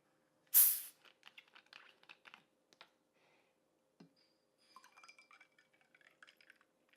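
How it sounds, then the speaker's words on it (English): Club soda poured into a blood-red Halloween cocktail, a brief loud fizzing splash followed by faint crackling bubbles and light glassy clinks, close and otherwise quiet. "we're going to finish it off with some club soda"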